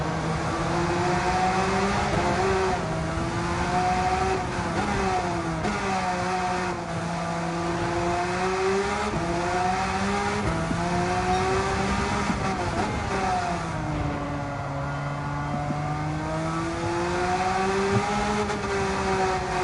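A Porsche race car in Gran Turismo 7 drives laps, its engine note climbing and dropping in smooth repeated sweeps as the car accelerates and brakes through corners, steady and moderately loud throughout.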